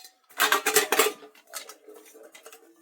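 Nested pans from a camping cook set with a kettle clatter and clank together in a loud burst of metallic knocks, then quieter scattered rattles follow, with no talking.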